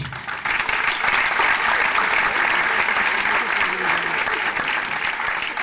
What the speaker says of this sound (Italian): Un applausino magari.